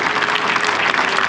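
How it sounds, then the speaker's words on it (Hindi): Classroom students clapping in unison, a short dense burst of applause, close and fairly loud. "एक बार आप लोग ताली बजा दीजिए।"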